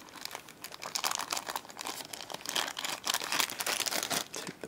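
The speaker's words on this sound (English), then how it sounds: "Take the plastic off." Plastic film being peeled and crinkled off a new Dell Venue Pro Windows Phone 7 during unboxing, a steady close run of soft crackling rustles lasting several seconds with no talking.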